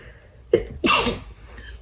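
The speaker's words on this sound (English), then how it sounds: "oh, I'm gonna sneeze." A single sudden sneeze bursts out after a brief catch of breath, loud and close in an otherwise quiet room with faint rustling before and after.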